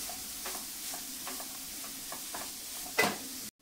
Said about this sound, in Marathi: गाजर छान परतून घ्यायचंय एकाच मिनिटभर।